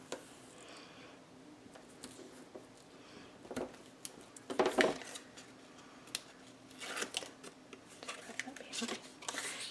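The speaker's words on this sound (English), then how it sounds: "Grab your 1/2 inch border punch and we're going to punch along it." A half-inch border punch bites along the edge of a paper sheet for a mini scrapbook album, giving a few crisp, irregularly spaced clicks and crunches at close range in a quiet room.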